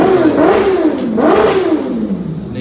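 A neighbor's race car engine revs up and down in loud, rising and falling sweeps, the pitch climbing and dropping twice in a couple of seconds with no talk over it.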